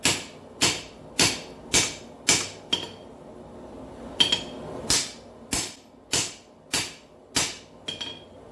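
A smith hammers a big hunk of steel on an anvil while forging a competition chopper: a steady series of sharp, ringing close strikes, about one every half second, with a brief pause midway.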